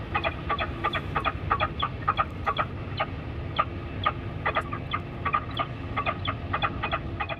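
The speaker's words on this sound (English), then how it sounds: "They're all distress calls that have been recorded to disperse the birds" A recorded falcon distress call played over a loudspeaker at Heathrow airport to scare off birds: harsh, sharp calls repeated in quick bursts over steady background noise.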